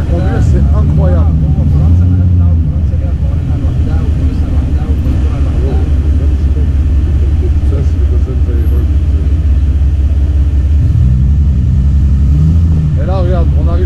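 The engine of a Batmobile replica car rumbles loudly and close as it drives steadily along a street, while people talk over the noise.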